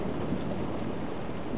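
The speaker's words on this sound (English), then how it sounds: "But here it is. Thunder." Steady rumbling roar of thunder mixed with heavy rain, dense and continuous with no break, loud and close.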